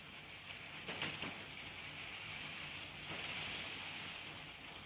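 Steady rain falls outside on a grey day, a soft continuous hiss with a few faint heavier patters and drips, quiet and distant, with no talking.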